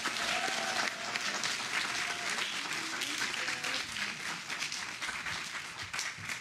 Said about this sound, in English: now's the time to applaud